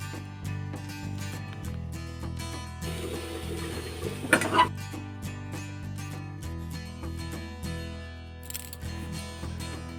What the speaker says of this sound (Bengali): এবার আমি ঢাকাটা খুলে এবার শাকটা একটু কিছুক্ষণ নাড়িয়ে নিয়ে শাকটা আমি নামিয়ে দেবো